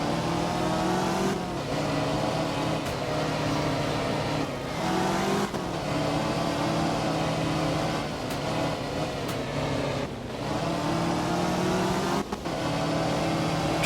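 A white rally car's engine drones and revs on snow in the Art of Rally racing game, loud and continuous with repeated gear-shift dips and surges as it accelerates through the stage.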